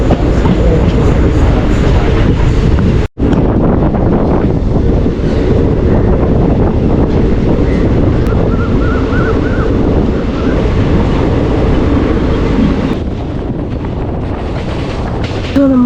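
The 16188 Karaikal Express at Tiruchirappalli makes a loud, sustained rumble of rolling rail cars, heavily buffeted by wind noise. One sharp break interrupts it early, and it continues at high volume with no speech.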